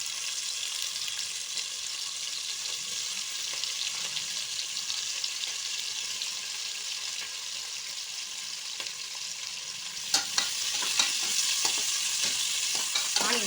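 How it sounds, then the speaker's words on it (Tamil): Onions sautéing in hot oil with cinnamon, cloves, cardamom and bay leaf for vegetable biryani: a continuous bright sizzle, close and steady, with a few spatula scrapes and a slightly louder stirring burst near the end, no voices. "ஆனியன் சேர்த்து நல்லா வதக்கி விட்டுக்கோங்க."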